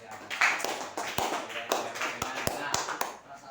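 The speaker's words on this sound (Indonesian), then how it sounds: "Tepuk tangan dong untuk Rehan sama Yara." Students clap in a classroom for two classmates, a scattered burst of hand claps with sharp irregular slaps spread over a few seconds, over murmuring voices.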